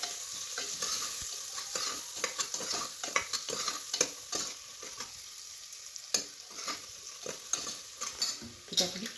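Frying onions with turmeric and salt are stirred in a pan, a steady sizzle broken by frequent scraping and clicking strokes of the spoon, close by and with no talk.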